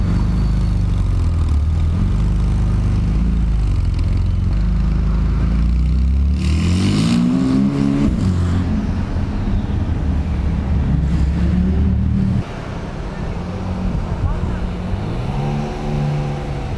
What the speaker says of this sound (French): We're driving now behind the top car Stinger. It's full carbon. Got a beautiful turbo whistle.